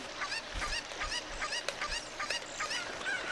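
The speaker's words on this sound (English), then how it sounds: "Getting this chicken to cooperate can be kind of a chore." A cucco chicken in Zelda: Ocarina of Time cackles with repeated honking, goose-like squawks in a quick, irregular rhythm, loud and close over a steady game background with no talk.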